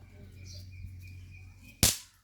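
A single sharp onion firecracker bang bursts out near the end, loud and close, after a stretch of outdoor hum and a faint steady tone.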